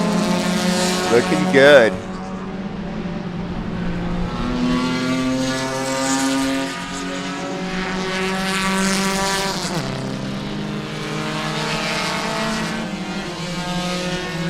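Production-based improved touring race cars at Sebring roar past in a pack, engines droning and shifting pitch as they pass, with a commentator talking over the noise.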